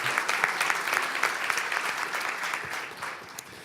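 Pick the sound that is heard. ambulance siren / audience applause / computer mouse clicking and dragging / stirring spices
audience applause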